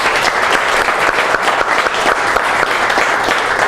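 Audience applause at a networking gathering, a dense steady patter of many hands clapping close by for nearly four seconds.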